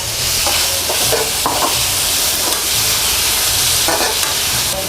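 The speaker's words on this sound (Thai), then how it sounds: "เราก็เริ่มต้นผัดเลยค่ะด้วยเห็ดหอมเอาเห็ดหอมเข้าไปคั่วให้มันหอมๆนะคะ ไปผัดให้หอมๆ" Shiitake mushrooms stir-frying over high heat in vegetable oil, a steady loud sizzle with spatula scrapes and stirring clatter recurring every second or so, close and continuous with no talk.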